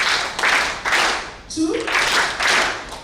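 An audience at a business and leadership forum in Tanzania claps together in a counting game, in a few loud groups of claps with short pauses between them. A voice calls out a number in between.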